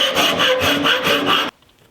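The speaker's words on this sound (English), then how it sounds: "I'm going to rasp it out because going on the power sander, I usually go to one side or the other." A hand rasp scrapes a wooden bow in about six quick, rhythmic strokes, loud and close, then stops abruptly into near silence.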